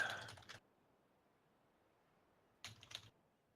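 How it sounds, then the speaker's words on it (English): Fast typing on a computer keyboard during an Overwatch tournament broadcast, with two quick bursts of key clicks separated by a couple of seconds of near silence, close and fairly quiet. "I'm so bad at typing."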